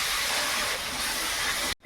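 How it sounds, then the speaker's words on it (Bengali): Water poured onto frying garlic, ginger and chili powder in a hot pan, a loud close steam hiss and sizzle that holds steady, then cuts off suddenly at the end. "মশলাটা ধুয়ে জল দিয়ে দিল।"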